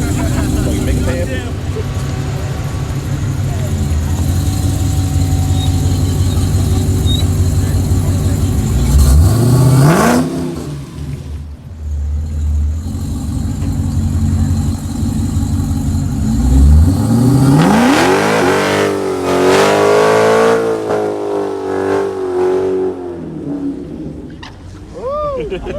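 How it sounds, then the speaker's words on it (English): Race car doing a burnout at a racing event, loud engine roaring and revving up twice in long sweeping climbs, with the crowd and people talking over the steady mechanical din. "they're gonna let him do one burnout"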